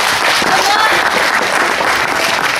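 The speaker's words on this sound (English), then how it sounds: "round of applause" A seminar audience breaks into applause, a thick, continuous wash of clapping from many hands heard fairly close, with faint voices mixed in.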